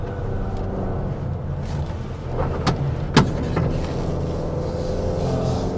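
A Honda SUV's petrol engine drones steadily as it climbs a steep hairpin bend on a hill road, a low continuous rumble with a couple of brief knocks partway through.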